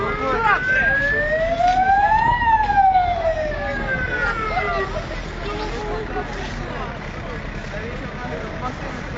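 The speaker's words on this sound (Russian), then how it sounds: "Скорая едет." A wailing ambulance siren sweeps up and down in pitch across busy street noise, fairly close and loud, with voices underneath.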